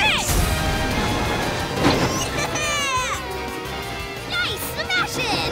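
Giant snowballs are smashed in a Blaze and the Monster Machines kids' video game, with crashing impacts and bright rising game effects layered under lively music and voices.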